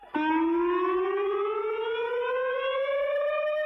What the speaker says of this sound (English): It's like regular siren, and then added kind of like a creepy vibe to it.